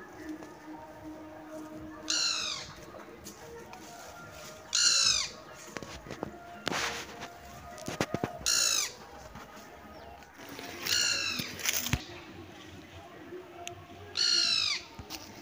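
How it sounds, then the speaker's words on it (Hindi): A woodpecker in a hill village gives harsh, rising chattering calls in about six short bursts spaced a few seconds apart. The calls are clear against soft background noise and scattered clicks. "कठफोड़े की आवाज़ है ये"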